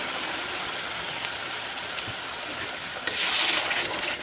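Spice paste poured into hot oil for a Sylhet-style boal fish curry, giving a steady broadband hiss like rain that swells sharply louder near the end as the paste hits the pan.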